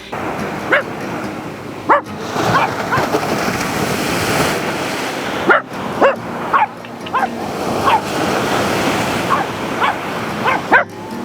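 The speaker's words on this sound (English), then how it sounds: "She will not stop barking at the beach" A dog barks at the sea repeatedly in short, sharp bursts, some yelping, over the steady wash of surf breaking nearby on a beach.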